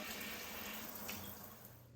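Oyster mushrooms being rinsed under a running kitchen tap, a steady close splashing water flow throughout, quiet and without talking.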